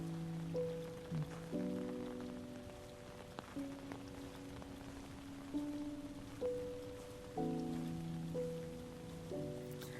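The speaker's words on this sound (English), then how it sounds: "So let's go at night, and you'll see that at night it's rainy." Steady rain falls at night in the VR nature-walking game Lushfoil Photography Sim, a continuous soft hiss under sustained musical tones.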